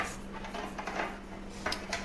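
A Manja paarai fish is cut on a board with a knife. Soft scraping and a few light knocks repeat close by over a low steady background hum.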